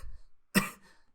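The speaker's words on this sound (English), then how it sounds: "Wow, I have a bad cough." A single sharp, close cough from a man teaching a science lesson, one abrupt burst in otherwise near-silence.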